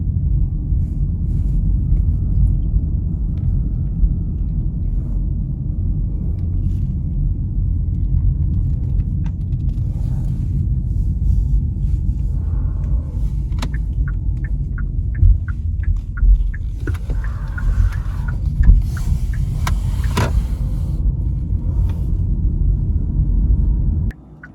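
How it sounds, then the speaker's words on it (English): Car cruising through a dark residential area at night, steady low road rumble and engine hum from inside the cabin, with a few faint clicks and rattles, ending abruptly. "Here we are driving around a pretty dark residential area."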